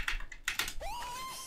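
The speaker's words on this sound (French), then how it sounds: "Rin défonce son clavier pour sauter le plus possible." Rapid clattering spacebar taps on a computer keyboard in a quick burst, followed by a rising electronic game tone that holds steady.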